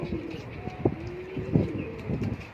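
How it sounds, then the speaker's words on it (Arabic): Domestic pigeons coo close by in a loft in the late afternoon, several soft, low rolling coos in an uneven rhythm over faint background noise. "وهو دي الحمام اهو مع بعضينا"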